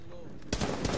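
Gunfire in the video game Rainbow Six breaks out suddenly halfway through as a loud, rapid burst of close shots after a quieter stretch.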